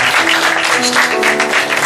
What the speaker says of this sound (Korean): 우리 시고와 함께 우리 팀들의 박수 한번 하겠습니다.